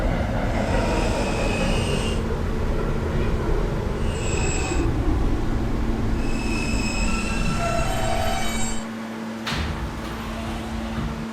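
A simulated R160A subway train on the K line in a video game, running steadily and loudly with a rumble and wheel squeal throughout, the tone shifting near the end as it slows.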